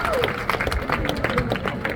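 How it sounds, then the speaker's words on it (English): Audience at a birds of prey flying demonstration at African Lion Safari clapping and cheering, a dense burst of brisk applause with crowd noise and voices mixed in. "Let's give them a huge round of applause, everyone."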